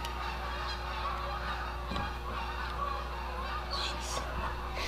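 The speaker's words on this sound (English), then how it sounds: "All the Canadian geese go up north for the summer, and then about this time of the year they start flying back in crazy big flocks." Canada geese honk as a large flock flies over, scattered calls rising above a steady low hum and background noise, with a voice faintly present.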